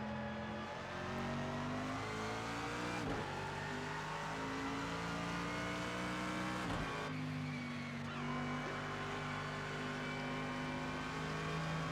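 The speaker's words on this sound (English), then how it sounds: "That V12, but got a lot of torque in there." V12 race car engine in Project Cars 2, droning loud and steady at high revs with brief dips on gear changes and lifts, no talk over it.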